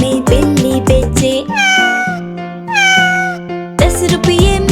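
Two long, sung cat-like meows sit between lively instrumental bursts in a Hindi children's rhyme, loud and upfront over the music.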